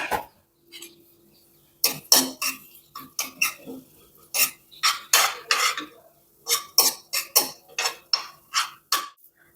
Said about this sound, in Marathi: जिरं आणि धनी हे सर्वात आधी आपण छान भाजून घेऊया